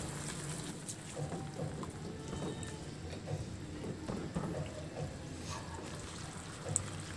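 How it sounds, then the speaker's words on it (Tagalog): About half a cup of water trickles softly into a frying pan of seasoned milkfish sauce with pepper and fish sauce, a faint steady pour over quiet kitchen background. "At lagyan ko na ng kunting tubig, mga kalahating cup lang yun"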